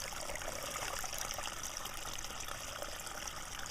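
A mountain spring that supplies drinking water trickles in a steady, continuous babble that stays even and close throughout, with no voices.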